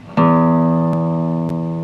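A single sustained low E reference note for tuning the sixth string of an Esteban steel-string guitar, struck once and ringing steadily with rich harmonics, with two faint clicks as it holds.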